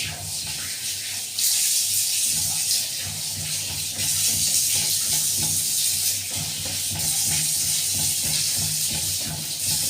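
Lukewarm water runs steadily from a tap for bathing pet cats, a continuous loud hissing splash that fills the room with small shifts in flow.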